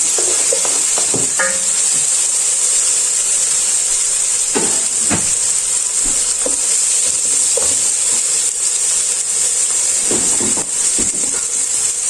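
Onions tipped into a hot pan for osso bucco with peas and baby potatoes, frying with a loud, constant hiss while a utensil scrapes and taps against the pan at irregular intervals.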